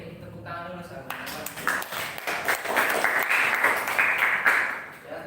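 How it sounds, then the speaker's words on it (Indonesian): An audience applauds after a candidate finishes speaking at a student presidential election debate. The clapping swells and holds for several seconds, and a voice is briefly heard at the start. "tepuk tangan dulu sahabat"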